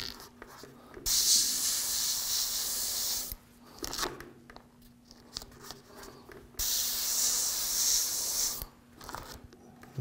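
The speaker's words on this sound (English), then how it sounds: "That's what we're airbrushing for." An airbrush sprays paint across a Bo-Katan helmet being faux-finished, two steady hissing bursts of several seconds each separated by quieter handling noises, fairly close and loud.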